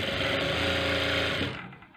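A sewing machine stitches a blouse with a steady, close mechanical whir that runs continuously, then winds down and stops near the end.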